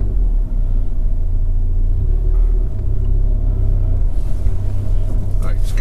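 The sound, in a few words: Ford Fiesta ST 180 driving in a lane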